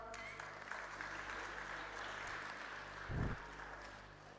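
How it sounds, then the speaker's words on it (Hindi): Applause from an audience at an educational society event in Chamba, steady broadband clapping throughout, with a brief louder burst near the end. "मास्टर जोहेब के लिए तालियां"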